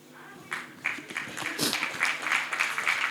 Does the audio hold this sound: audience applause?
yes